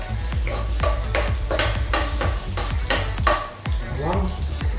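Garlic frying in a hot pan, sizzling under a rapid series of loud scraping and stirring strokes against the metal.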